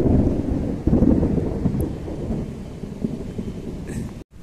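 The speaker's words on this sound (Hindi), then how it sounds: "अभी फिर से बारिश थोड़ा तेज हो रही है" Steady heavy rain roars close by, with a low rumble of thunder swelling beneath it; no voices.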